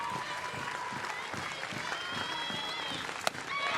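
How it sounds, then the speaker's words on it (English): Texas softball fans in a stadium clap steadily on their feet during a two-out, two-strike count, a dense crowd wash throughout with one sharp spike near the end. "Texas faithful on their feet clapping with the 2-strike count"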